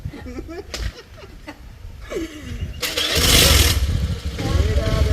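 A motorbike engine turns over and catches in a village setting, with a rising mechanical rumble that swells to a loud close idle, while people talk and move nearby.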